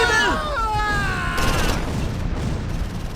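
Explosive bursts and scattered gunfire from grenades hurled at a Kommandowagen during a Battle of the Bulge fight at Losheim in Close Combat 4, loud and rumbling, mixed with a brief wailing tone and a voice speaking over it.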